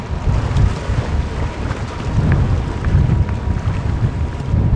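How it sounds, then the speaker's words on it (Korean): Strong wind blows at sea during a halfbeak fishing trip off Chuja Island, with a steady low roar and buffeting against the microphone. No one speaks. "바람 엄청 세다, 진짜."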